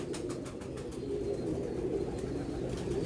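Soft, low cooing of a pigeon, steady and close, with a faint rustle in the background and no talking.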